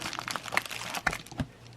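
Cassette player product packaging being opened by hand, with scattered crinkling and rustling bursts of plastic and paper, close and fairly quiet, no talking.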